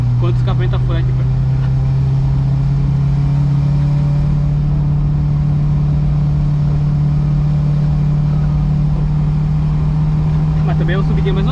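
A Volkswagen Kombi with a faulty exhaust drives along, its engine droning loud and steady with a constant low hum, while people talk quietly inside.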